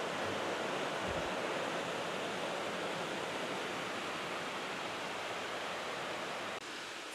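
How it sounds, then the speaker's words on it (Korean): Eungbong waterfall on the Sibiseonnyeotang valley trail in Seoraksan rushes in summer, a dense, steady roar of falling water filling the whole scene, close and loud, with no voices. "여기는 응봉폭포입니다."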